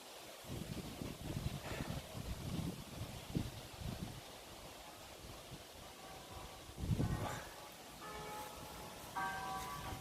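Steady wind rushes and buffets the microphone in low gusts, with a bell ringing faintly in the distance toward the end.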